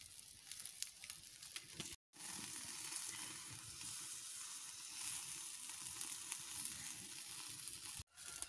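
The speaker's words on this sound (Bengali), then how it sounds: "ভিতরে এখন ওই তরকারি ফোটার মতো ঝঝা ঝঝা করে ফুটতেছে।" Bamboo chicken cooking inside a bamboo tube over a low fire hisses and sizzles loudly and steadily, a dense bubbling crackle from start to finish with two brief breaks, and no voices.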